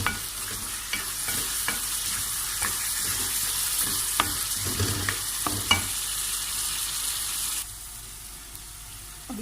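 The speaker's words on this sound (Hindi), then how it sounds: "अब इसमें मैं 2 टेबलस्पून तेल डालूँगी, जिसको मैं अच्छी तरह से भूनूँगी।" Food fries in two tablespoons of oil in a pan, with a steady sizzle under repeated sharp spatula knocks and scrapes while stirring; the sizzle drops to a softer hiss near the end.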